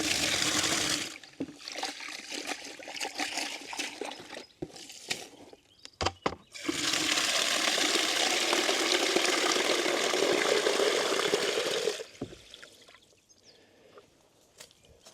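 Water splashes and gushes steadily as fresh water is poured for chickens and goats, with a brief break and scattered clunks midway, then pours strongly again before fading to a quieter trickle.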